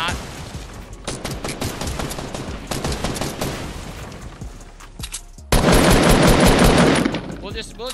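Fortnite assault rifle gunfire in rapid automatic bursts, loud and close, with a heavier sustained volley near the end over game ambience.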